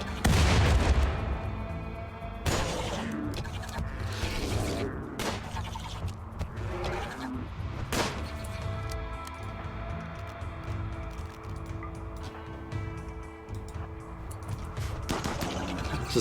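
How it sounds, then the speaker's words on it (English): Mobile artillery in a cold-climate video game fires repeated booming shots over a steady low rumble, with several sharp blasts spread across the stretch. "Just mobile artillery."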